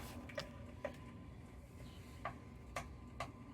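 A spoon stirring and mashing lumps of hot roux in a pan of white sauce, five faint clinking taps spaced irregularly over a quiet background.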